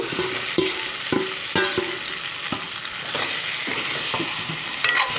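Pieces of pork fry with spices in hot oil while a spatula stirs them, giving a continuous close sizzle broken by repeated sharp scraping strokes against the pan at an irregular pace.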